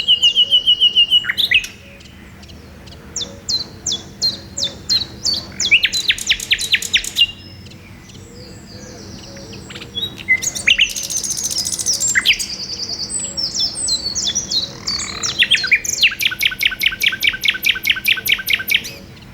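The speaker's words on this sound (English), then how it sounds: "nature's finest concert as the male nightingales proclaim their territory" Male nightingales sing in southeast England woodland, loud, close bursts of rapid repeated notes, whistles and trills in varied phrases separated by short pauses.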